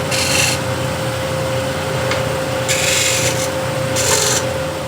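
A small spindle gouge undercuts wood on a lathe, producing a close, steady rubbing scrape with a few brighter hissing bursts as the tool cuts.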